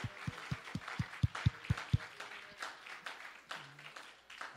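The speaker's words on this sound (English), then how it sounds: "Clap your hands unto the Lord, all ye people." A church congregation claps its hands in worship. Steady rhythmic claps with a deep thump come first, then looser scattered clapping, all faint and distant.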